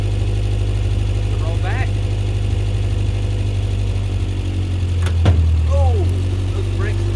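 A 1979 Subaru engine idles steadily with a low, continuous hum while the car is put into reverse and starts rolling back, with people talking over it.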